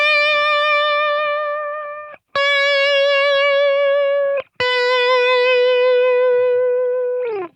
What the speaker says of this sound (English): You can really sing a note using vibrato.